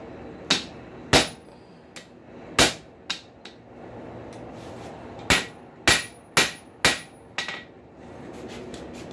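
A hammer strikes a rail spike on a cold anvil while tongs are forged, giving sharp ringing metallic blows in irregular bursts: a handful early on, then a quick cluster of strikes near the end, loud and close.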